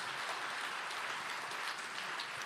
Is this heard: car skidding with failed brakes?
no